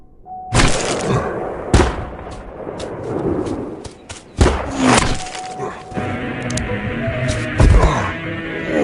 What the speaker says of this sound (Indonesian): akhirnya mereka pun terlibat baku tembak.